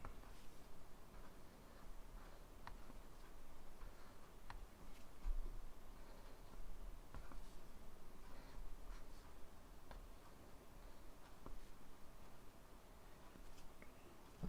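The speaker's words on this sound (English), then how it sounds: "when you draw this thick outer line" A pen scratches a thick outer line onto paper in a mistletoe Christmas drawing, giving a faint, close, steady scratching with light ticks and rustles.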